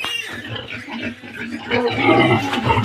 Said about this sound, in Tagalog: tignan natin ang biik na wala nagbabantay